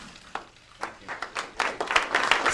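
Sparse, tepid applause from a small audience, starting as a few scattered claps and building to a light, thin patter of hand claps by the end, fairly distant and subdued.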